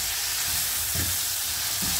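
Tortelloni ingredients frying in a pan make a dense, continuous sizzle with a few soft stirring knocks, close and steady throughout.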